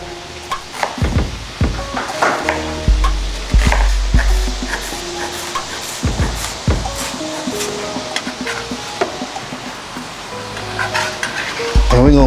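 Food fries noisily in a home kitchen pan, with onions chopped nearby: loud, close sizzling broken by repeated sharp clatters and knocks of stirring and tossing, with no speech over it.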